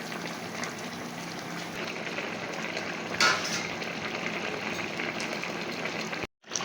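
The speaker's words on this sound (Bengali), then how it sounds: "মাছটা দেওয়ার পর ঝোলটা পাঁচ মিনিট মতন ফুটুক" Bengali fish curry broth bubbling in a pot on the stove, a steady low boil with soft continuous simmering texture and one brief clink near the middle, no voices.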